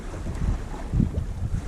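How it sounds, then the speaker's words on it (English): Strong wind gusting across a lake on a freezing day while ice fishing with bobbers, a steady low rumbling buffet with heavier gusts swelling midway, no voices. "There's so much wind, it's hard to tell."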